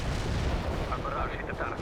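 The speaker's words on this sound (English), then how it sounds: "Commencing the barrage." Artillery barrage in World in Conflict, a continuous heavy rumble of rolling booms and blasts, loud and dense throughout, with a voice faintly mixed in beneath.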